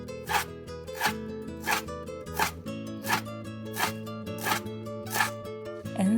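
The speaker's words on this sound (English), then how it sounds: "I'm going to slice up some green onion here." A knife slicing green onion on a cutting board, with eight or so crisp, evenly spaced cuts close by, over soft background music and no talking.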